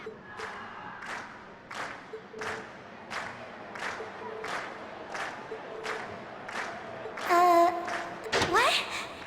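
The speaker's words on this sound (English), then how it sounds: "we've heard your cheers loud and clear" Concert crowd at a festival in Trails of Cold Steel, cheering in rhythmic bursts roughly twice a second, then a louder swell of cheering near the end.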